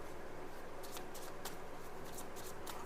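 Tarot cards are shuffled by hand close by, with soft, faint riffling flicks repeating in bursts over a low steady hum.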